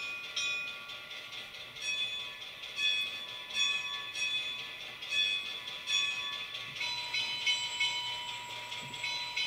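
Locomotive bell from a TCS WOWDiesel sound decoder, a steady repeating metallic clang at an even pace, close and clear with a faint mechanical hum beneath, changing tone slightly partway through.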